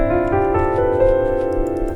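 Piano scale played with the sustain pedal held, the notes blurring into one continuous ringing wash rather than separate attacks, moderately loud with no talking.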